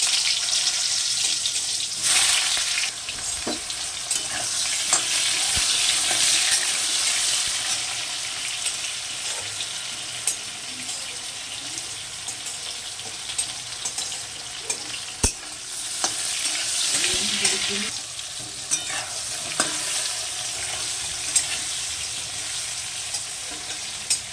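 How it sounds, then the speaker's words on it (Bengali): Raw plantain pieces fry in oil in a pan for shukto, a steady, close sizzle rising and falling over a long stretch with occasional light utensil taps and no speech. "এবার কাঁচা কলাটা ভেজে দিচ্ছি।"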